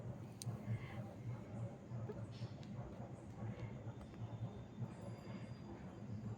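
Steady low rumble and clatter of a moving train, heard from inside a passenger carriage on a rural line, continuous and fairly loud throughout with faint background voices.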